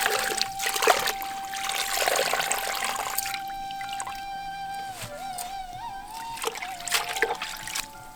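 Water pours and trickles steadily into a cooking pot of washed cluster beans, close by, with a ringing metallic tone and splashy bursts toward the end.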